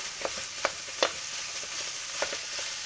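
Meat sizzles in a pan with onions that are already lightly browned, making a steady hiss broken by a few sharp crackles and stirring clicks, close and moderate in level, without speech.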